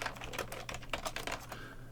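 Quick bursts of keystrokes on a computer keyboard as a name is typed, a close, quiet run of crisp clicks with no voice.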